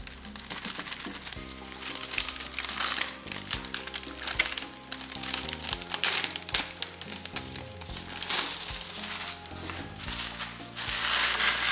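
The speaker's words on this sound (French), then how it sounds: "frottez très légèrement comme ceci, puis enlevez délicatement la feuille" Metallic foil sheet rubbed lightly and peeled off a glued surface while making a Christmas candle-holder decoration, giving steady crinkling, scratchy rustles and crackles throughout, close and fairly loud, with no talking.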